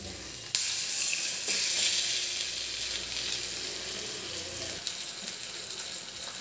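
Ground mango chutney goes into a pan of lightly fried onions, setting off a steady loud sizzle with a sharp burst at the start and soft stirring scrapes, close up.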